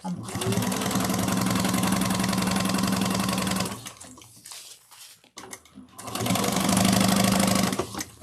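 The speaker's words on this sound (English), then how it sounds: "now we're going to close the tube up on both sides, just doing a 1/8 of an inch stitch" A sewing machine stitches a fabric tube closed in two loud, fast, whirring bursts separated by a pause with rustling handling of the material.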